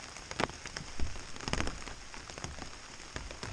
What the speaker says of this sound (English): Did I mention a chance of rain this morning?